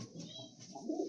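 Pigeons in a loft give low, soft cooing murmurs, faint and muffled, with a slight rise in the last moments and no clear speech.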